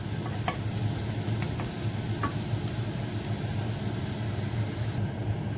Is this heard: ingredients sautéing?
yes